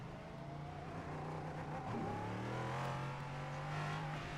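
A loud race car engine in the iRacing sim drones steadily, holding a near-constant pitch with a slight dip and rise in revs midway, close and unbroken with no talk over it.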